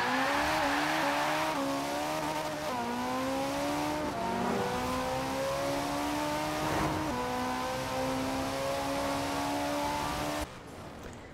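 A Ferrari 430 Scuderia engine in the racing game Forza Horizon 4 revs loud and raw, its sustained howl stepping through several gear shifts before cutting off near the end.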